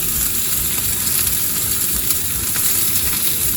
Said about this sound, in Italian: per prima cosa facciamo friggere bene le zucchine